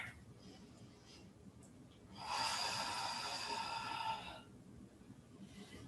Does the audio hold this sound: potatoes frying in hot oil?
no